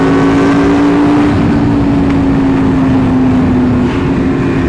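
A large group ride of motorcycles travels at speed, with a steady, loud engine drone and wind roar from close by, broken only by a faint sustained tone; no talking.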